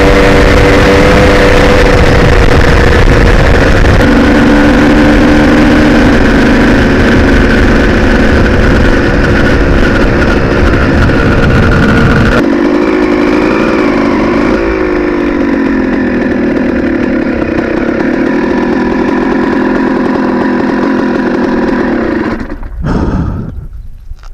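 A 2002 Honda CR250R dirt bike engine drones loudly and steadily for a long stretch as it is ridden, with a shift in pitch partway through before it cuts off abruptly at the end.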